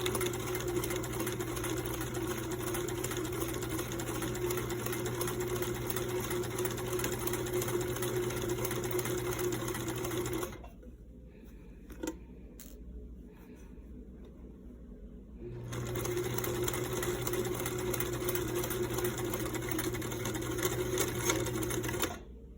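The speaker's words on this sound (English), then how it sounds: "you'd sew pretty darn close near it, or only, you know, fold twice and sew once" A sewing machine stitches a fabric face mask, its steady mechanical whir running close and loud for about ten seconds, stopping for a short quiet gap, then starting up again at the same pace.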